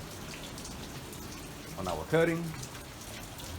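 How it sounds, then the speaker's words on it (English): Steady rain falls outdoors on an overcast day, a soft even patter holding through the clip while a nearby voice speaks briefly in the middle. "It is raining. The rain is slacked off a bit."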